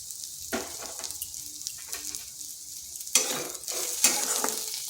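Onion fries on low heat in a pan with a light sizzle, broken by several scraping strokes of a spatula stirring it, close and moderately loud.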